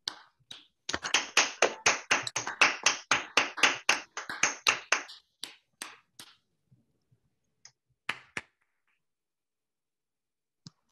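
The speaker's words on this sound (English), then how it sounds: "let's all unmute and clap and thank Naomi." Online audience applause after a mathematics lecture: a dense burst of overlapping claps for about four seconds, then thinning to scattered single claps that trail off into quiet.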